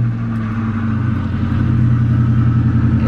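1998 Ford Mustang GT V8 engine running after starting, a loud, steady, rumbling idle close by with no talking.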